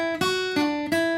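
An instrument plays a descending thirds exercise, three sustained tones struck one after another at an even pace, close and clear with no talking.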